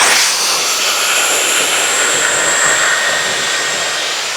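A Dyson Airwrap i.d. hair styler blows air in a loud, steady, close whoosh with a high whine running through it, continuous for several seconds and slightly easing at the end, no talking.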